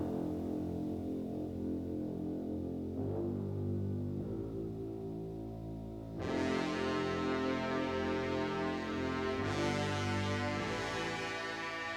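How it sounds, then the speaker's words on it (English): Ableton stock brass sounds with bass building in a bridge toward a breakdown, sustained chords stepping through changes, swelling brighter and fuller at about six seconds, no voices. "just Ableton stock brass sounds there and some bass that comes in as well"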